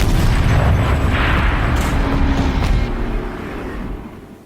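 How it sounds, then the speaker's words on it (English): A turret fires in the video game Horizon Zero Dawn, producing a loud, sustained booming blast with a rumbling tail that fades over several seconds, heard close with no talk. "Rotate turret! And fire!"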